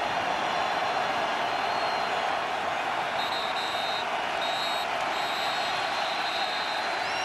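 A big football stadium crowd at a 2021 Clemson vs. Pitt college game on third and ten, a loud, constant roar of thousands of fans that holds steady and close for the whole stretch.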